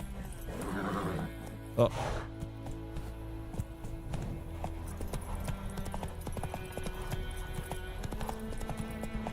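Roach the horse gallops in The Witcher 3, steady clip-clopping hoofbeats running throughout under game music, while a person talks over it with a brief exclamation.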